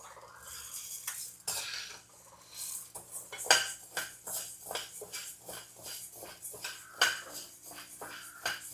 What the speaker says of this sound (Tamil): நல்லா உளுந்து நல்லா செவந்து வந்துடுச்சு. நல்லா கொட்டிட வேண்டியதுதான்.